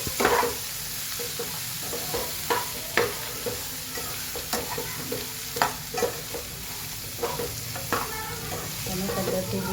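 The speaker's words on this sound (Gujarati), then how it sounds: "મસાલા ભીંડી બનાવવાની છે એટલે સરસ આપણે મિક્સ કરી દઈએ." Cut okra being mixed into masala bhindi as it fries in a pan with turmeric: a continuous sizzle punctuated by repeated scraping stirs, close and fairly loud, with no talking.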